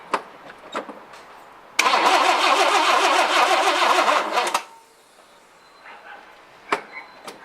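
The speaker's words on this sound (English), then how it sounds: "Go ahead and start it" A 1964 Rambler car that is running poorly, its starter cranking in a rapid rhythmic whir for about three seconds before cutting off without the engine catching, with scattered knocks and clicks around it.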